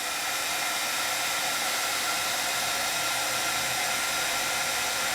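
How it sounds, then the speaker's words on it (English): A crafting heat tool blows hot air to melt embossing powder on paper, a loud, steady fan whoosh that runs unbroken from start to end with no talking. "So I turn my heat tool on."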